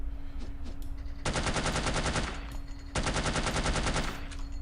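Weapon fire at a laser barrier in No One Lives Forever comes as two long bursts of rapid automatic shots, each lasting over a second, loud and close, with a steady electric hum between them.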